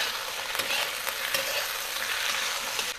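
Pork slices frying in a covered pan over the lowest flame, a steady close sizzle with crackling pops, continuous and alone.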